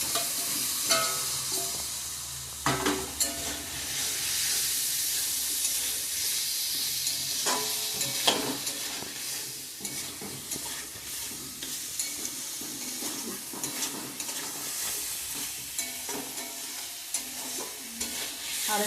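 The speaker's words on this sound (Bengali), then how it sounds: "আর একটু ভালো করে ভেজে নিয়ে জল দিয়ে দেবো।" Soybean chunks and potatoes in spiced masala are stirred and fried in a pan, giving a continuous sizzle broken by repeated scraping stir strokes, close and moderately loud.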